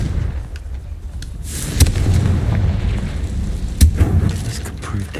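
A Confringo fire spell from Hogwarts Legacy goes off as two sharp, loud blasts, each followed by a rumbling burst, over a steady low roar of game ambience.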